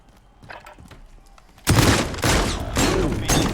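Video game shotgun with an unusually long barrel fires in loud, overlapping blasts after a quieter opening stretch, with heavy bursts continuing to the end.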